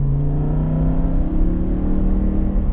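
A Lamborghini Huracan EVO Spyder accelerates hard on a racetrack at Canadian Tire Motorsport Park, its engine a loud, continuous, rising roar with a steady climbing pitch heard from inside the car.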